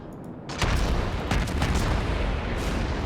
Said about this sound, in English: Oh god, incoming fire.